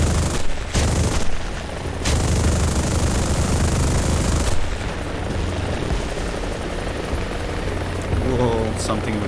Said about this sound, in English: something with the ATGM just shot me.